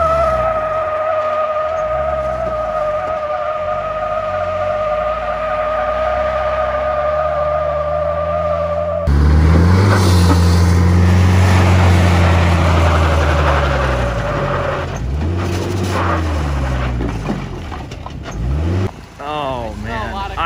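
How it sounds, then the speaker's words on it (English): A Toyota Hilux pickup strains in a tug of war against a Ford Raptor: loud, close engine roar that climbs and holds as revs rise, with tire scrubbing and shifting pitch, while people talk over it. "Tug of war, Hilux versus the Raptor."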